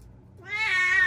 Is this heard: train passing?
no